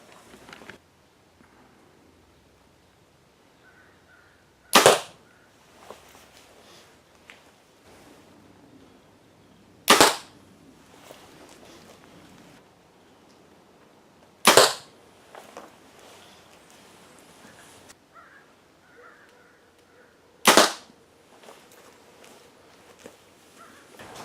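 Arrows shot one at a time from a bow during French tuning at short range, four sharp, loud releases spaced several seconds apart, with quiet shuffling and faint movement between shots, no talking.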